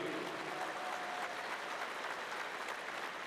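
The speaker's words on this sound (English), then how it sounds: "Let's get a round of applause for everyone that supported this great event tonight." An audience at a Guns N Hoses fundraising event in Kansas City claps steadily, with a dense, even wash of applause from a sizeable crowd that holds throughout without pause.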